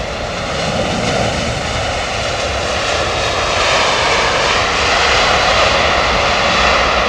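A Boeing 777 airliner's engines roar steadily and loudly, a broad sustained jet rumble that swells slightly toward the end, with no voices.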